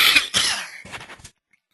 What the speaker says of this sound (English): I apologize if some of my coughing has been a little disruptive.